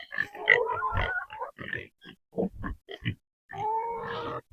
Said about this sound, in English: So these are the type of pigs we have. These are the Berkshire.